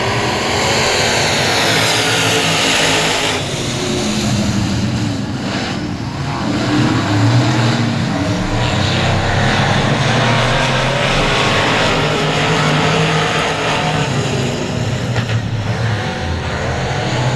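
Race cars accelerate together at the start of a race at Cotton Bowl Speedway, building a loud, continuous roar of multiple engines with shifting pitches that carries on for over fifteen seconds without a break.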